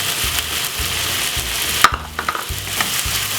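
Vegetables with frozen corn fry in a pan, a steady sizzle broken by clattering scrapes and knocks as the mix is stirred, with no voices.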